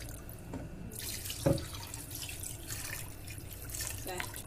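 Water runs steadily from a kitchen tap while duck is being cooked, a continuous splashing hiss with a brief clunk partway through.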